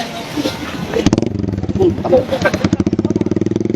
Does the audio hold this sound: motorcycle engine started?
yes